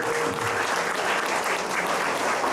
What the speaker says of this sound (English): you should give her a big round of applause